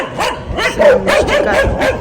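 Several dogs barking near and loud, a rapid run of overlapping barks and yips with some whimpering, continuing without pause.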